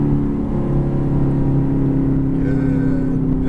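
Ferrari F430 accelerating on a track, a loud, close engine drone with strong steady harmonics, holding pitch and then edging upward as revs build, no voices.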